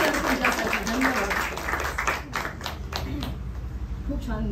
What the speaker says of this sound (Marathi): खूप टाळ्या जोशी सर तुमच्यासाठी